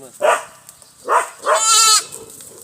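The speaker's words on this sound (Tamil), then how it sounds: "இதெல்லாம் நல்ல வர்க்கமான ஆடுங்க" A goat bleats in three drawn-out calls, the last one long and quavering, close by on a farm with a short pause between each.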